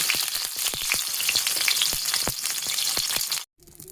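Eggplant fries in a pan alongside already-fried chilies, a loud dense sizzle crackling with sharp pops, then cutting off abruptly near the end before a quieter hiss resumes.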